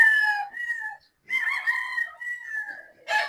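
A three-year-old gamefarm rooster, a gamecock of the sweater breed, crows loudly and close by in a few drawn-out calls separated by short pauses.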